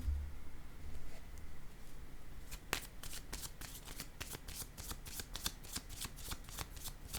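Tarot cards being shuffled, a soft riffling whir followed by a steady run of crisp card flicks and snaps as cards are laid down, close and quiet, with no voice.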